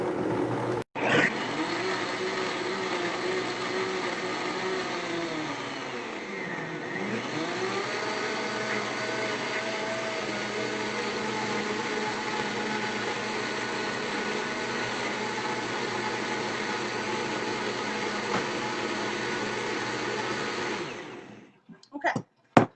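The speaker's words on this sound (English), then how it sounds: "Now this is my high-speed blender," A high-speed blender purees vegan mac n' cheese sauce with a loud, sustained whirring roar that dips briefly in pitch as the load shifts, then runs steadily for about twenty seconds before switching off with a few clicks.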